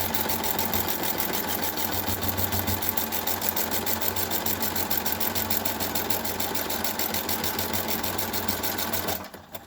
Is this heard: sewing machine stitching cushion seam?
yes